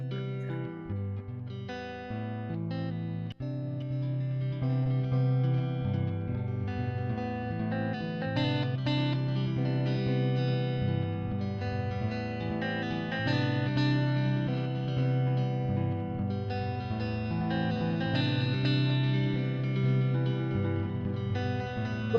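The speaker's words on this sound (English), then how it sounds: "and you should hear this kind of echo effect." A looped guitar phrase runs through an all-pass filter, giving a smeared, echoing delay effect that plays steadily and fairly loud for the whole stretch, with one brief break near the start.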